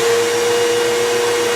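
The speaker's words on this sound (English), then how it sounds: "The vacuum has stopped working." A household vacuum cleaner runs steadily and loudly with a constant motor whine, then cuts out abruptly at the very end as it stops working.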